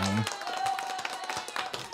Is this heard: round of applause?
yes